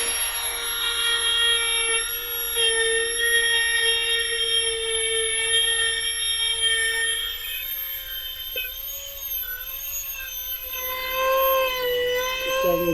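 Small rotary tool spinning a tiny burr to drill little holes, a steady high-pitched whine with layered harmonics that holds unbroken for about thirteen seconds, shifting slightly in pitch as the bit bites into the workpiece.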